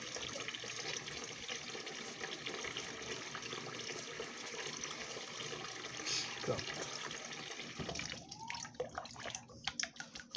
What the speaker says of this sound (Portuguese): Aqui tô lavando esse copo do Matheus que eu fiz